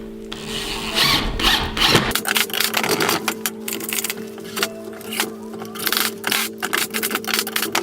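A power drill drives screws to fix brackets onto wood for a clamp storage rack, whirring steadily and loudly at close range with brief changes in pitch as it bites and stops.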